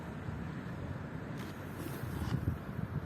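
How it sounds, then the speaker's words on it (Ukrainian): Steady wind noise buffets the microphone with a low rumble, swelling slightly in gusts near the end; no voices. "Вітер великий."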